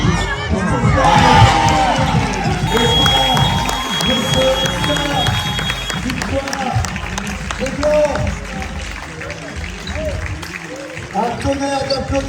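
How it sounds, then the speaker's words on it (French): Crowd cheering, shouting and applauding at a basketball all-star game, a loud continuous roar of many voices including children, with voices prominent throughout. "Un tonnerre d'applaudissements"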